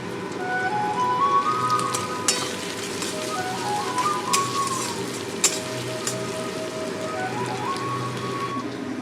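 Onions frying in reused fish-frying oil for Bengali methi shak chorchori with fish head, making a steady close hiss and sizzle with scattered crackles and pops, no voices.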